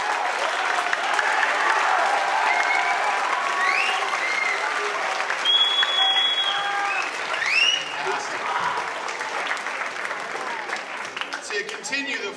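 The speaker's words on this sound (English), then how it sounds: "So let's have a round of applause for the parents." An audience claps and cheers for the parents at a school honor band performance, sustained applause with scattered whoops and voices mixed in, steady and full before tapering slightly toward the end.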